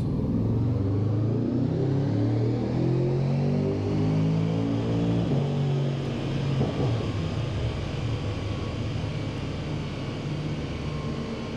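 A Porsche Panamera Turbo S roars steadily on a dyno in fifth gear with the brake applied, its engine drone rising in pitch, loud and close, continuous throughout with no talking.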